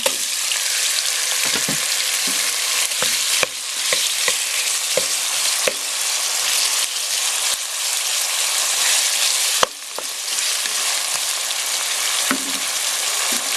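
Chicken pieces sizzle and fry in a pan for a Japanese-style cream stew, a loud, steady hiss broken by occasional scrapes and clicks of stirring, with no talking.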